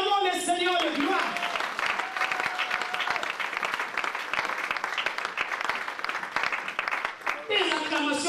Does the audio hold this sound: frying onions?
no